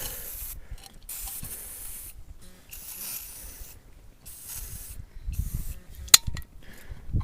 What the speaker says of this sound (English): spray that shit good with the WD-40